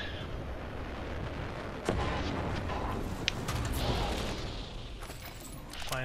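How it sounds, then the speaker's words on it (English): R-99 and Havoc guns fire in a game, bursts of rapid shots and sharp cracks over a dense, rumbling battle backdrop, with a voice talking briefly. "Firing it. Oh, R-99 and Havoc."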